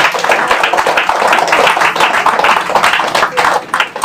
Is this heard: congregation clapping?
yes